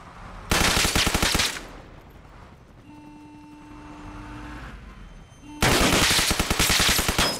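Automatic gunfire in Arma Reforger comes in two long, loud bursts of rapid shots, separated by a few seconds of quieter ambient game hum.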